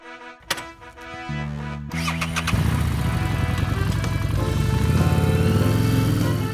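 A motorcycle engine fires up and climbs in stepped revs before settling into a loud, steady droning roar.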